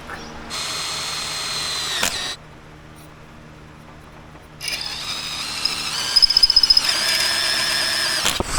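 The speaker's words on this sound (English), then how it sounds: "we'll just drill another hole a little higher" A power drill bores a hole in woodworking equipment, in two whirring bursts of about two and four seconds separated by a quiet pause, close and clear.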